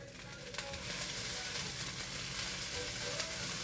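Fried rice sizzles in a pan while being stirred, a continuous close hiss of frying with a few soft scrapes of the utensil and no voices.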